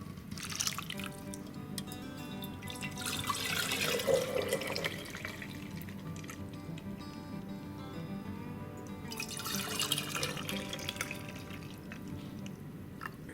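Orange-infused spirit pours into a mixture in a soft, quiet liquid trickle that swells in two brief gushes, with faint splashing between them.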